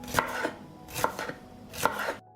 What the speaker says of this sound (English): I cut the pepper into thin strips because it will add color and sweetness